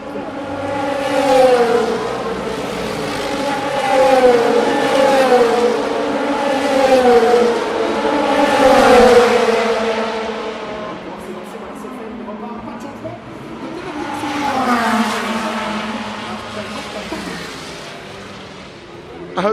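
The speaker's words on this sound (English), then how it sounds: "You can hear the stereo image of the cars. That's a Cadillac." Cadillac race cars at Le Mans roar past at speed one after another, engines rising and falling as each passes, with a whining tone sweeping through the loud pass-bys.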